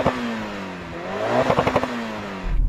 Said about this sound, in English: Go on, rev it up.